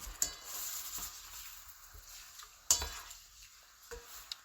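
Egg sauce with eggs simmers and bubbles in a pan while a utensil stirs it, soft sizzling under occasional sharp scrapes and clinks of metal against the pan, faint and close, with no talking.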